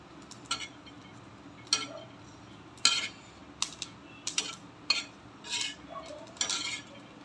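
Garlic, green chillies and peanuts roasting in a pan for a Maharashtrian green chilli kharda, heard as intermittent scraping and clinking of a spatula against the pan over a faint background sizzle, with no voices.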